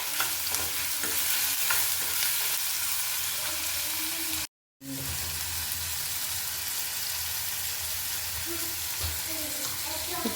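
Onions salted and browning in a pan while a dry prawn curry is being made: a dense, continuous sizzle with stirring scrapes throughout, close and fairly loud, broken once by a brief moment of silence.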